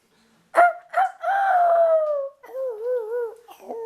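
A human voice imitates a rooster crowing, loud and close, with a short yelp, then a long drawn-out crow and a wavering, warbled ending. Nothing else is heard.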